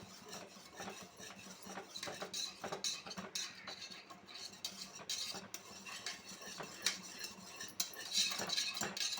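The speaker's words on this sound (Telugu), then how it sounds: "కొంచెం కొంచెం పోసుకొని స్కర్తో తిప్పుకోవాలి." A spatula stirs flour, added a little at a time, into a mixture for Mysore pak. Soft, continuous scraping and clinking against the pan carries an irregular patter that grows slightly louder toward the end.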